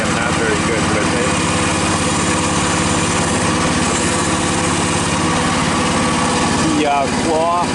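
A mini excavator's small engine runs steadily and loudly up close, a constant droning rumble with a brief hydraulic whine near the end.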